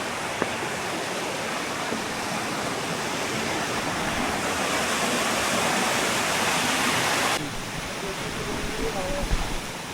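Small waterfalls on a hike up Rozsutec pour with a loud, steady broadband rush that cuts to a quieter, thinner wash partway through, with faint bumps near the end.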